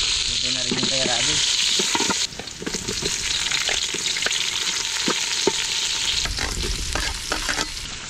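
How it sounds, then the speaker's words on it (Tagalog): Steady, loud sizzling of food frying in a pan, with scraping and stirring clatter throughout. "Okay na yung prito ni Dalaman."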